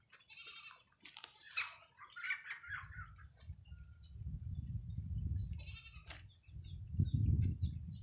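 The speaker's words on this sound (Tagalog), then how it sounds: "kumuha ng kanding" A goat bleats several times in short, wavering calls, fairly close, over a quiet rural background with a low rumbling noise and faint bird sounds.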